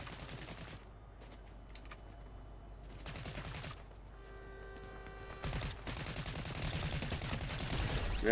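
Gunfire from a golden gun in the Fortnite video game, several bursts of shots spread through the clip, growing louder and denser toward the end over continuous game ambience.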